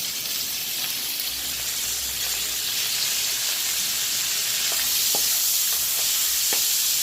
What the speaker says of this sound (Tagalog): naglagay na po ako ng oil, then lalagyan ko din siya ng dairy cream para mas nangangalang siya.